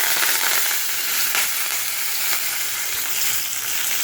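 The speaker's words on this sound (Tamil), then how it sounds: "பாருங்கள், கடுகு பொரியுது." Mustard seeds crackle and pop in hot oil for a kara chutney tempering, a dense, close sizzle scattered with sharp little pops.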